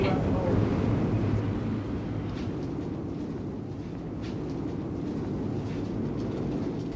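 A New York subway train rumbles past coming from DeKalb Avenue in Brooklyn, a dense, steady low roar with rattling and screech overtones, loud and continuous with no clear pauses.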